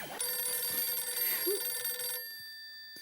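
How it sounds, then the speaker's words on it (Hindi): An old-style telephone bell rings once in a bright metallic burst, then cuts off leaving a fading tone. "अरे नट्टू काका का फोन इस वक्त?"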